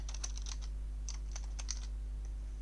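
Typing on a computer keyboard, a few quick bursts of light clicking keystrokes close up, separated by short pauses over a low steady hum.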